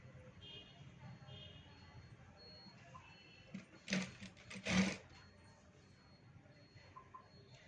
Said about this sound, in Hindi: जैसे हमने पहले स्लीव्स को लगाई है उसी तरह से आपको दूसरे स्लीव्स को भी स्टिच करना है।